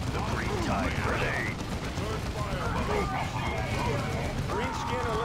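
Gunfire and battle effects from the Dawn of War II strategy game, scattered shots and clatter running continuously under steady voiced unit chatter and game sounds throughout.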